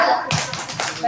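Several children tap on books in a classroom, producing a few soft, rhythmic pats close by with children's voices mixed in.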